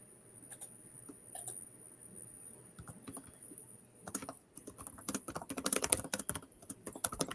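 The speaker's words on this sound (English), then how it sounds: "I hear somebody typing." Someone types on a computer keyboard, producing irregular bursts of quiet key clicks that grow denser and louder toward the end, with a faint high steady tone in the background.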